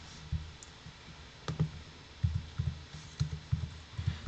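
Numbers are typed on a computer keyboard into an online calculator: a run of soft, close key clicks in an uneven rhythm, quiet and with no talk.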